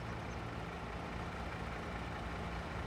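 A truck engine in the Farming Simulator 22 video game, a steady low idling rumble that holds evenly throughout with no other sounds.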